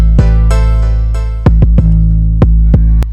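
A booming 808 bass holds one steady pitch with no bend, rolling under a trap-style Cali beat; sharp drum hits land at an uneven rhythm over the continuous sub-bass, loud and close, with no voices.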